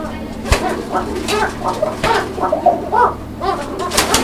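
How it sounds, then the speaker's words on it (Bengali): Pigeons coo repeatedly at close range, soft throaty calls recurring in a loose rhythm with some handling noise. "এই যে ডাকটা হলো মূল কবুতরের ডাকটা হলো বড় বিষয়"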